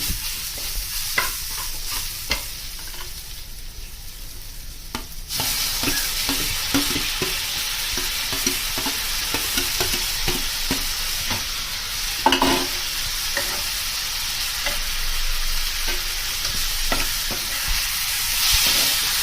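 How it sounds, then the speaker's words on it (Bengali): Bombay duck fish sautés in spices, with coriander powder and dried chilli powder, in a pan for lote fish fry, giving a steady sizzle that grows louder partway through, marked by repeated scraping stirs and clinks. "এভাবে এইটাকে ভালো করে কষতে থাকবো"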